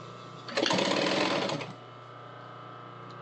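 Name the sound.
sewing machine stitching yoke of rain chaps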